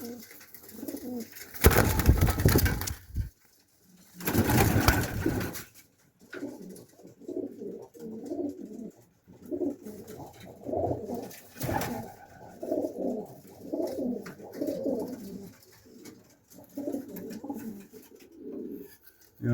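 Low, repeated cooing from Pakistani pigeons close by, continuing in soft rolling phrases, with a couple of louder rustling bursts early on.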